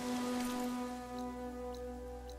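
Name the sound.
rain in video game Horizon Forbidden West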